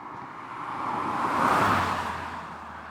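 A Toyota Starlet Glanza V drives past with a quiet, unobtrusive exhaust, a soft engine hum and tyre whoosh swelling to a peak midway and fading away, heard alone without talk.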